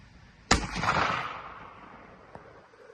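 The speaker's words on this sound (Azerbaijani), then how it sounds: "5'li şokla atırıq ki, yayılımına baxaq." An Impala Plus shotgun loaded with buckshot and a 5 choke fires once at a target 48 metres away: a single sharp, loud blast followed by a long rolling echo that fades slowly, with a faint click afterward.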